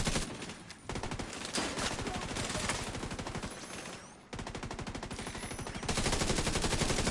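Rapid automatic turret fire in The Division 2, a loud, sustained stream of evenly spaced shots in long bursts with short pauses between them.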